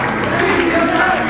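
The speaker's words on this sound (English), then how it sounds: "And the crowd is on their feet." Wrestling arena crowd cheering and applauding steadily as a bout ends, with a commentator talking over the dense roar throughout.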